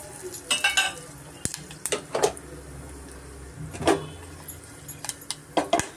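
Fennel seeds, cinnamon, bay leaves and cloves fry in hot oil for a chana curry. A soft, steady sizzle sits under sharp, scattered clinks and scrapes of a spoon stirring against the pan.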